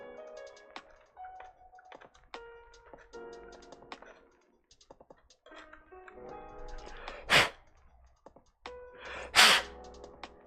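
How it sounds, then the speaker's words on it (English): Someone blows air into a computer keyboard with two sharp, loud bursts of breath near the end, after scattered clicks and taps of keys being worked on with a tool. "It's me blowing in the keyboard."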